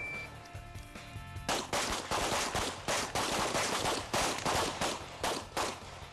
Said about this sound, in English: Anybody can shoot 5 shots in 7 seconds.